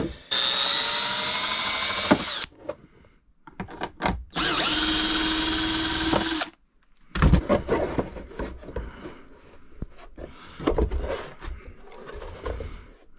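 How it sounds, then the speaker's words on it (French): A power screwdriver backs out the rear screws of an RC car body, a Traxxas X-Maxx with an Elsass cutting body, in two loud sustained whirring bursts, followed by lighter handling clatter and taps. "Je démonte juste les vis arrière."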